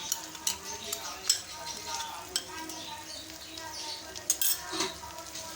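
A spoon stirs whisked yogurt into beef korma in a pot, with soft intermittent scrapes and clinks over a faint sizzle, close but fairly quiet, with no voice over it.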